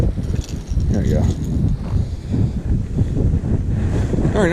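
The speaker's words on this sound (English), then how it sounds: "It is very windy today" Strong wind gusting across a farm pond during bass fishing, a loud continuous low rumble buffeting the microphone with rising and falling surges, with a voice talking faintly underneath.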